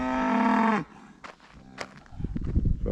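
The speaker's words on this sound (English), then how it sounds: "It's a cow on a leash." A cow on a leash in a Ukrainian village gives one long, loud, close moo, followed by footsteps and rustling movement nearby.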